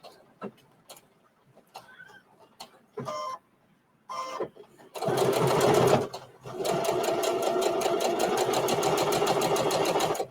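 Domestic sewing machine stitching fabric for a pin cushion and scissor holder, a few short clicks and brief bursts at first, then two long rapid mechanical runs of stitching, close and loud.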